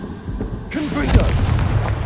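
Confringo fire spell in Hogwarts Legacy video game, a heavy booming blast with rumbling low end that rolls on for a second or two, overlapping a spoken voice.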